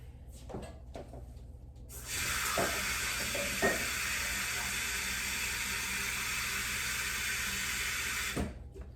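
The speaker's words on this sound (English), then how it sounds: "It looks like it's been boiling, but it needs some more water." Steady broadband hiss and bubbling of water at a rolling boil, starting abruptly after a couple of seconds and cutting off near the end, with faint clatter.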